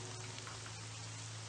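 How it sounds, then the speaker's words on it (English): Steady hiss of rain falling continuously in the horror video game Coffins of Ashes, set around a burning mansion, with a low constant hum underneath and no voices. "Do you also want to watch the rain?"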